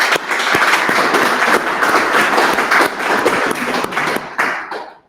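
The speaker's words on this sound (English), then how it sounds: "Please give a lot of applause to our presenter today." An audience gives a presenter steady, dense applause for about five seconds, with a few sharp individual claps standing out before it fades at the end.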